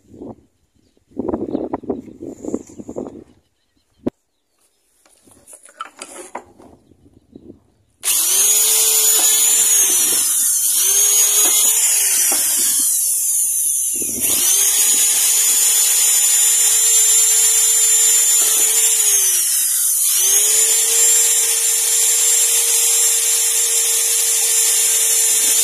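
A power drill bores small holes into a wooden window frame: after some handling and tapping noises, a loud, high whining motor runs steadily, dipping briefly as the bit bites into the wood, then resumes.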